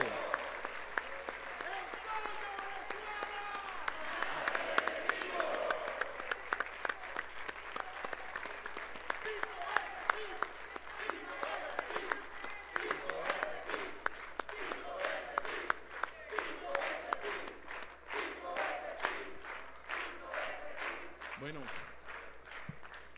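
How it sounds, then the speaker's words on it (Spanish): An audience at a talk on the Guayana Esequiba dispute claps for Venezuela's ambassador, a sustained round of applause with dense, fluttering claps lasting over twenty seconds, with scattered voices underneath. "vamos a darle las gracias y otra vez un aplauso a nuestro embajador y agente del Estado, Samuel Moncada"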